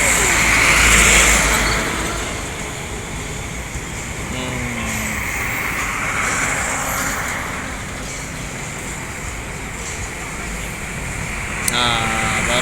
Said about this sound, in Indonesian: Bus Sumbar Yonda Prima dari Sumatera Barat masuki kota Palembang.